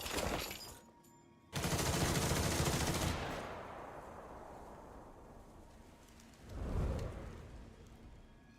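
A volley of gunfire erupts in the video game Duet Night Abyss, a dense burst of rapid shots that fades into a lingering rumble, followed by a second heavy blast a few seconds later.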